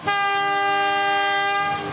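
A Queensland Rail Freshwater Scenic Railway train sounds a single loud, sustained horn blast close by, holding steady for about two seconds before fading slightly, with no voices.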